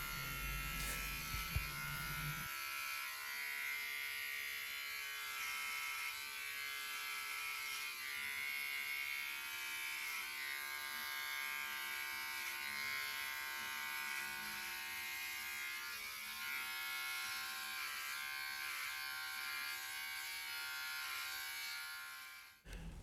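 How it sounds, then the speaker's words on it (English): Electric clippers buzz steadily and close while shaving a head down to a grade 0 buzz cut, a continuous whine with slight pitch wavers as the blade moves, without speech. "When shaving your head, also make sure to shave the back of your neck."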